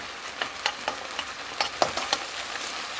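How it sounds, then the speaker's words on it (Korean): Chili powder is stir-fried in a pan for a Korean bean curd stew, a soft continuous sizzle with light intermittent scraping and stirring clicks throughout, close by and moderately loud. "고춧가루를 반 큰술 넣어서 같이 볶아줄게요."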